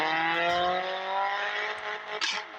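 A Mercedes car engine revs high and sustained while drifting, a bright whining tone with a brief squeal of tire scrape near the end, heard alone without talk.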